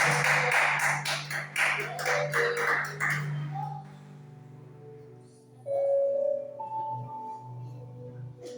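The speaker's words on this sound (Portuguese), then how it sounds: "E recebam o Senhor com palmas em nome de Jesus." Brisk clapping from a church congregation rings out for a few seconds, then fades into a quieter stretch with sustained tones and some voices.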